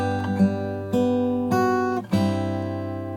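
A short guitar chord passage, a few notes ringing into one another and sustaining cleanly, close and moderately loud.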